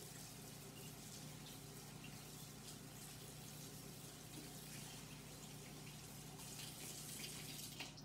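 Running tap water streams steadily into a sink while hands are rinsed beneath it, a continuous faint splashing wash with no talking.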